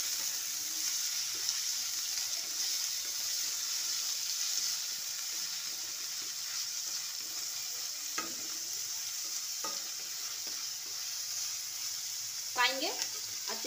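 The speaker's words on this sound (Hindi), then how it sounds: "प्याज अच्छे से पका लेते गोल्डन ब्राउन होने तक। इसी में हरी मिर्ची डाल देते" Onions and green chillies fry in a pan with a steady soft sizzle, punctuated by occasional scrapes and clinks of a spoon stirring, with a brief voice near the end.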